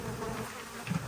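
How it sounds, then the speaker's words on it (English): A swarm of honeybees bumped into an open box during a hive rescue, a close, steady droning hum of many wings with a brief thump near the end. "A lot of bees."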